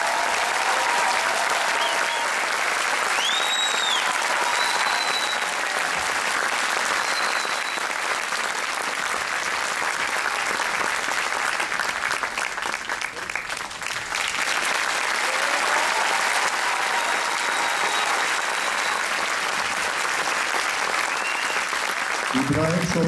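A Circassian association's cultural event audience in Ankara applauds a guest, with dense, steady clapping throughout, slightly dipping midway, and faint voices and whistles mixed in.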